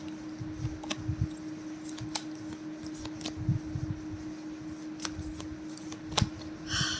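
Tarot cards being shuffled and drawn by hand, soft riffling and flicking close up with occasional sharp card snaps, against a steady low hum.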